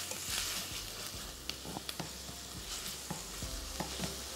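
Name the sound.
minced meat being stirred and fried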